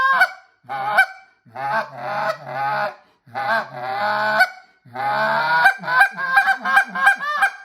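A handheld goose call is blown to imitate Canada goose honks, a loud close series of sharp honks and clucks in short bursts, ending in a rapid run of quick notes.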